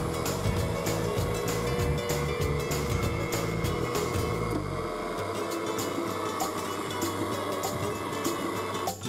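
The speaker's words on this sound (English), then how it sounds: "Flip the switch, the motor runs" Baldor single-phase AC motor running with no load, a steady close hum and whine with fine mechanical ticking; partway through a low component drops away while the running tone continues.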